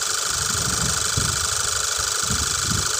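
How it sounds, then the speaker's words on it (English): Car engine running during a 12V battery load test, a steady close mechanical rumble with uneven low throbbing pulses, no voices. "We need to start engine for 5 seconds to this load testing."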